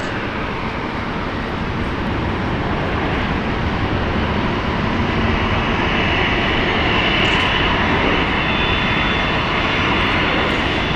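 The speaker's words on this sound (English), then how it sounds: "A Jetstar, a Dreamliner touching down." A Jetstar Boeing 787 Dreamliner touches down, its engines and rushing air making a loud, steady broadband roar that holds for the whole stretch with no talk.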